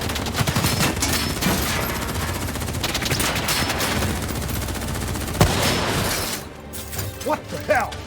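Sustained bursts of automatic gunfire and scattered shots in Call of Duty Black Ops 3 combat, loud and dense throughout with a sharp close report near the middle, mixed with game sound effects and brief voices.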